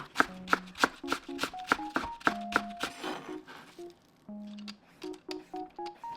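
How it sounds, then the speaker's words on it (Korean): A knife finely shreds cabbage on a cutting board, making rapid, crisp chopping taps in quick bursts. Short pauses break up the bursts, and the sound stays close and clear with a soft rustle under the strokes. "양배추는 최대한 가늘게 채 썰어주세요."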